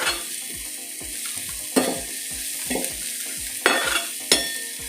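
Onion sizzles and crackles steadily on a hot griddle, with several sharp scrapes and clanks of a spatula stirring it.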